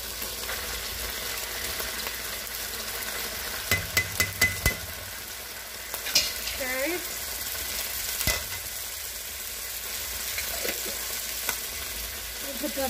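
Two tablespoons of sofrito sizzling in a hot pot for Puerto Rican chicken soup, a steady close frying hiss broken by a quick burst of spoon scrapes and knocks against the pot.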